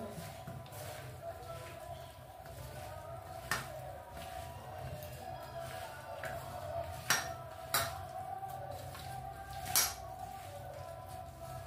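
Fish being mixed by hand with mustard oil in a metal pan, soft squelching and rubbing with a few sharp clinks against the pan, under a low steady background hum.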